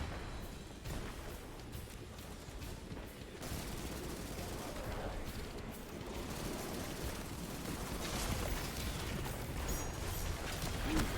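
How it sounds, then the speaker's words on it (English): Cannons fire in the Destiny 2 video game, a dense, continuous barrage of booming blasts and crackling impacts that grows slightly louder toward the end, with no pause between shots. "Fire the cannons!"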